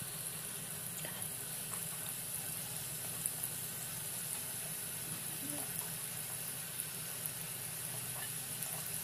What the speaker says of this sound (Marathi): आणि आता मी एक एक करून या तेलात सोडलंय.